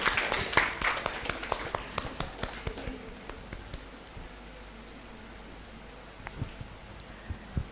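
A group of girls applauding at a women's engineering college event, a brief burst of clapping that thins into scattered claps and fades to quiet.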